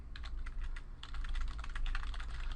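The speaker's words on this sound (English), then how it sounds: "I'm just typing stuff in here so you can see that." Fingers type rapidly on a computer keyboard, a close, steady stream of crisp key clicks with a brief pause near the start, heard alone without any talking.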